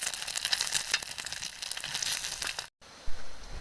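Egg frying in a pan, pressed into a flat patty for a homemade burger, giving a steady close crackling sizzle that cuts off abruptly near the end, followed by a brief low rumble.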